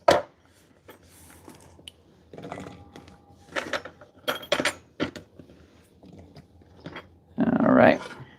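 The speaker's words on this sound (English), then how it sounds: "right now I'm just chopping up the long beans" A knife chops Chinese long beans on a board with irregular close taps and crisp cuts, some spaced and some in quick runs, ending in a louder burst of chopping.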